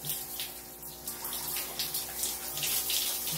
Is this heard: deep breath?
no